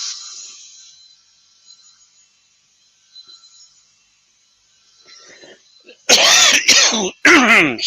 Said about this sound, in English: This really annoying cough I've had since Christmas.